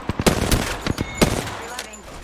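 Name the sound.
gunfire in the video game Apex Legends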